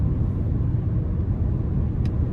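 Steady low road rumble and muffled engine hum fill the cabin of a 2014 Acura RLX Advanced with a 3.5 V6, cruising smoothly at highway pace with no voices.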